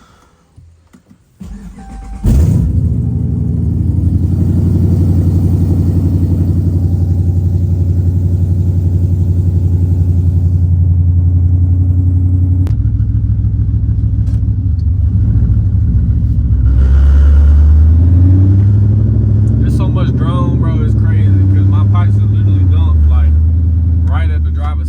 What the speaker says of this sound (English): We'll do a little cold start.